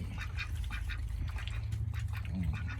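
Ducks quack repeatedly in a noisy outdoor farm setting at feeding time, several calls overlapping over a steady low rumble.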